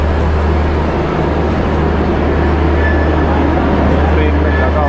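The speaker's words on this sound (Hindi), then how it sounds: "अभी जो फ़िलहाल सामने जो ट्रेन आप लोग देख रहे हैं ये है मुंबई से पटना के बीच चलने वाली समर स्पेशल ट्रेन है।" Mumbai–Patna summer special train rolling past, hauled by a WAP-type electric locomotive, a steady loud rumble with a constant low drone and faint high squeals, continuous throughout with no distinct horn.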